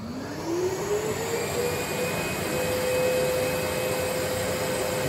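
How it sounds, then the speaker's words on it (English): A dust extractor on a CNC router runs steadily, a loud broadband roar with a rising whine as it spins up, then holding at a constant pitch. "Turn the extractor on."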